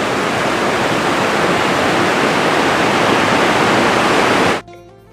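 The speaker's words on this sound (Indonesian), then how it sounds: "Dan saya akan merasakan air terjun tersebut" An outdoor waterfall at a former mining site pours in a loud, constant broadband rush that holds steady for several seconds and then cuts off abruptly near the end.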